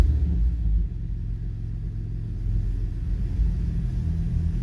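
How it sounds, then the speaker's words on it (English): The engine of a 2006 BMW 325i idles warm with a steady, loud low rumble and a slight rise partway through, close up. "We're gonna do I guess a warm start, and then I'm just gonna rev it up a little bit and show you what that sounds like"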